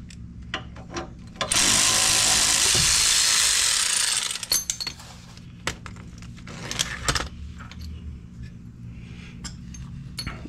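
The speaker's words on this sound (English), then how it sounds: "I'm going to go ahead and take this bolt all the way out now." A ratchet works a bolt out of a 6th gen Ford Bronco differential: a loud continuous burst of about three seconds, followed by scattered metallic clicks and clinks.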